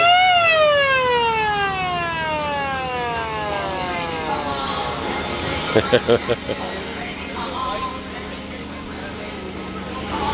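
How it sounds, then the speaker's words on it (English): The siren of an old emergency vehicle at a classic car show winds down in a long, loud descending wail and fades into the outdoor crowd noise. A few short bursts of nearby voices follow. "There's the siren."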